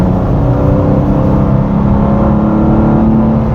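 BMW M2 engine running hard under throttle, a steady, loud, close drone with a deep rumble that holds through the whole stretch without voices.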